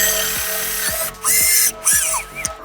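A power drill bores holes into the top edge of a wardrobe panel, using a jig to set the depth. Short, high whirring bursts rise and cut off in quick succession over a steady low motor hum, close and loud.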